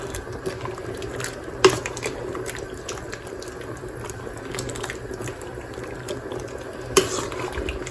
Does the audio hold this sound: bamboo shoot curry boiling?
yes